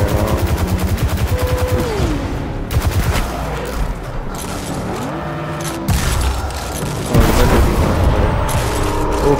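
Rapid automatic gunfire rattles without pause in the video game Destiny 2, loud and close, with mechanical whirring tones and a few heavier booms running beneath the shots.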